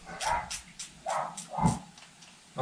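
A dog barks at the mail carrier in a quick run of four or five sharp barks, moderately close and fairly loud, with short gaps between them and no talking.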